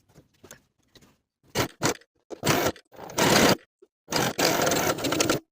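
A sewing machine stitches a straight seam across a quilted jacket, running in short stop-start bursts of rapid mechanical whirring separated by silent pauses, close and clear.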